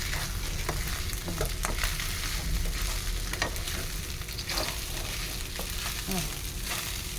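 Fried rice sizzling steadily in a hot oiled pan with a splash of soy sauce, a constant close crackle with occasional stirring scrapes.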